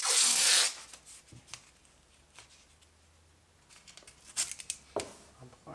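Adhesive tape is pulled off its roll with a loud ripping screech, then torn and pressed down onto wooden boards in a scattering of soft taps, crackles and rubbing, close and without speech.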